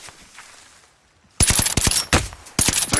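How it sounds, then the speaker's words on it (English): Gunfire in a video game, sudden and loud after a near-silent first second, arriving as rapid clustered bursts of shots with brief gaps between volleys. "Still taking 40 shots at me."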